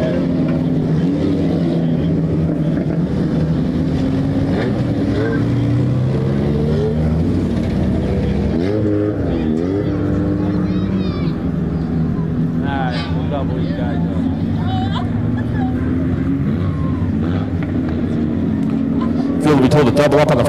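JV Systems mini stock race cars run laps on a wet Showtime Speedway track, engine drones rising and falling as the field passes, loud and continuous for twenty seconds while an announcer talks over them.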